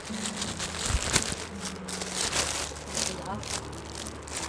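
Plastic bag packaging around a cheap tote bag crinkles and crackles while being handled during an unboxing, a close, continuous rustle with someone talking over it.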